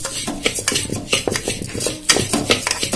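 Sago pearls tossed with ghee in a pot for payasam, a metal spoon scraping and clinking against the pot in quick, busy strokes, close up and with no voices.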